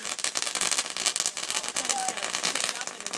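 Fireworks shooting out in a rapid, continuous crackling barrage outdoors, dense bursts filling the air nearby, with people's voices mixed in.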